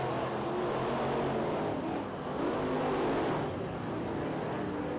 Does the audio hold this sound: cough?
no